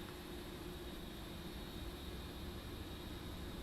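An airliner in Microsoft Flight Simulator 2024 produces a steady, broadband engine roar, constant and moderately loud, with no talk over it.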